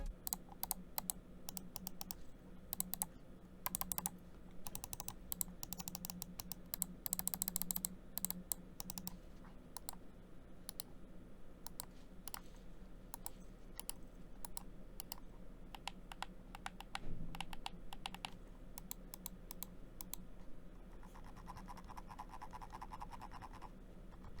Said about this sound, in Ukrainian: Клік приємний, особливо кайфово крутити коліщатком.